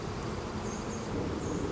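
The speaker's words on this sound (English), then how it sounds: "We have a lot of bees at home today, if you haven't noticed." Honeybees hum steadily around a beehive at home during a dry spell, a soft continuous buzzing drone with faint higher whines of individual bees passing near.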